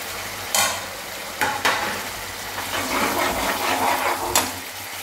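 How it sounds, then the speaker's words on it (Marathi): Finely chopped capsicum stir-fried in a pan for cheese green pav bhaji, giving a continuous close sizzle broken by several sharp spatula knocks and scrapes as the pieces are tossed. "आता त्यानंतर आपण शिमला मिरची घालणार आहोत, ती मी बारीक चिरून घेतलेली आहे।"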